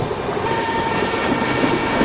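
A passing train in Train Simulator, an oncoming Intercity Express on the Puri to Paradip route, rumbling loudly and steadily throughout with a broad rolling rail roar and a faint high whine.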